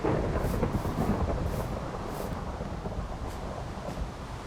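Rain and rolling thunder in the DayZ mod for Minecraft form a loud, continuous low rumble with a broad rain hiss on top, heavier at the start and easing slightly, with no voices.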